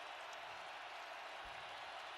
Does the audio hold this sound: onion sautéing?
no